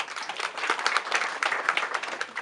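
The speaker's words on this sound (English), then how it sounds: "Please clap for them." Moderate, fairly faint applause from an audience at a talk on children's learning, irregular clapping with individual hand claps audible through the wash, continuing steadily throughout.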